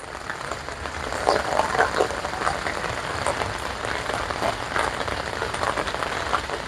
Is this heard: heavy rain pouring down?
yes